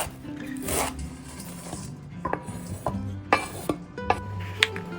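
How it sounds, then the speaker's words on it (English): Knife chopping parsley finely on a board for tabbouleh, a series of sharp, irregular taps and scrapes close by, over a low background hum. "Start by finely chopping some parsley."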